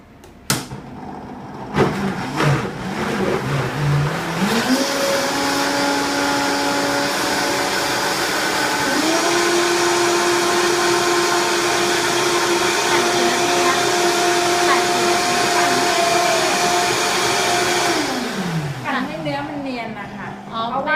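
An electric blender runs steadily for about fifteen seconds, whirring loud and close as it blends water into tube-feeding food, its motor pitch rising at start-up and shifting partway through before winding down.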